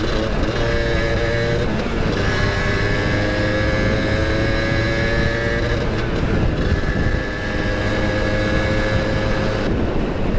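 A motorcycle engine held at top speed near the rev limit, loud continuous high-pitched whine with wavering pitch and brief dips, heard alone throughout.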